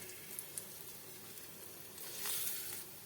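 Dal vada batter frying in oil in a kadai over a medium gas flame, a soft continuous sizzle with faint pops and a brief louder crackle near the end, close and quiet.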